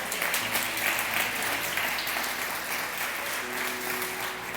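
Church congregation applauding together in a broad, steady wash of clapping that holds for several seconds with no pauses, moderately loud and filling the room.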